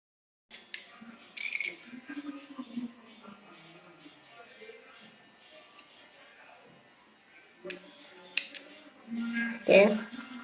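Scissors snipping crochet yarn, a few close crisp cuts spread out among soft handling noises, with a voice talking in between.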